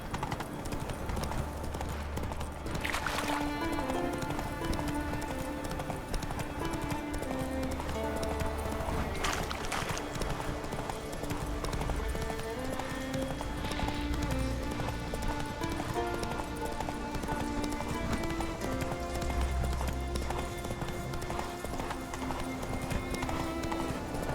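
Roach, a horse in The Witcher 3, gallops with steady rhythmic hoofbeats that run throughout at a constant close level, set against a dense layered game-music backdrop with an occasional whinny.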